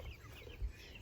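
Backyard hens in a garden chicken coop give a faint, brief cluck against quiet outdoor background, with no one speaking.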